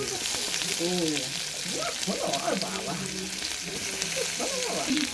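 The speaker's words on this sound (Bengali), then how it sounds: "তিনটে শুকনো লঙ্কা দিচ্ছি তারপরে এতগুলো কাঁচা দিলাম খাবে তারপরে পেঁয়াজ কুচিটা দিয়ে দিচ্ছি" Dried red chillies, green chillies and chopped onion sizzle in hot oil, a steady bright crackling hiss, while someone talks over it throughout.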